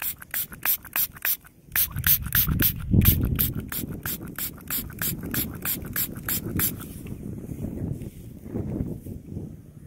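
Rapid, rhythmic bursts of hissing spray, first evenly spaced and then clustered, with a person talking over the spraying.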